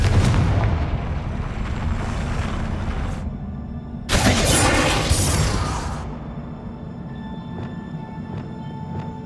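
A Confringo blasting spell goes off in the Hogwarts Legacy video game: a sudden loud booming burst with a bright crackling whoosh that lasts about two seconds, set against a rumbling game soundscape and fading into echoing resonant tails.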